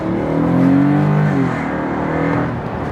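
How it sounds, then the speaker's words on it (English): A Nissan Skyline 250GT exhaust drones through an open car window while driving, a loud steady engine note that rises slightly in pitch and then settles. "with the window down where you can actually hear the exhaust,"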